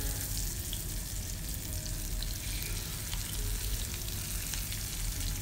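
Food sizzles and crackles steadily in hot oil in a cast iron pan, a close, continuous frying hiss with scattered pops and no talking.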